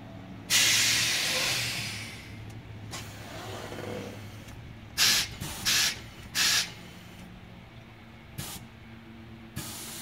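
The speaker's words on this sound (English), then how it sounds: "you'll hear the air release" Air-release hiss on a 1974 Cadillac: a loud, close burst of hissing that slowly fades, followed by three short sharp hisses in quick succession, then a few fainter clicks and releases.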